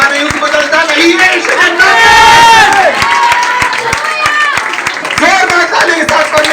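A church congregation at a healing and deliverance meeting bursts into loud, sustained applause with cheering and shouts, the crowd noise rising and falling close by.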